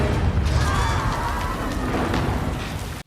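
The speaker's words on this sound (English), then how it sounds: "An explosion." Explosion in a burning stone building in Star Wars: The Acolyte, a loud sustained rumbling roar with crackling debris that holds steady for about three seconds before cutting off abruptly.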